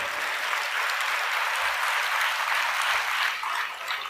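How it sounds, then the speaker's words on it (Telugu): Sustained applause from a church congregation during a baptism service, steady and dense throughout at an even level, with no voices on top. "చప్పట్లు కూడా దేవుని మహిమ పరుద్దాం"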